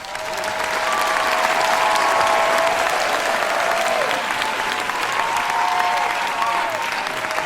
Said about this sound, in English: So listen, clap if you think Day Out.